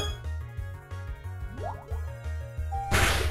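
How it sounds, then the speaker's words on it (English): A Water Gun attack from the Pokemon Uranium video game, splashy liquid bursts over a looping bass-heavy battle tune, ending in a loud, hissing wash of spray. "like that water gun"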